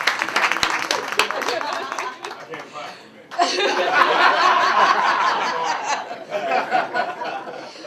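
A crowd breaks into sustained clapping and cheering after a burst of laughter, loud and close, continuing for several seconds.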